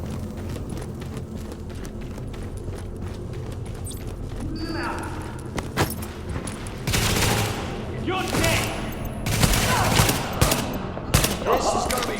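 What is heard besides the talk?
gunfire in video game The Division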